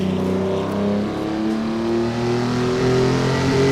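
A historic race car engine at the Pau street circuit in Assetto Corsa, held in second gear, drones loud and close with a steady high rev and rising harmonic tones, no talk.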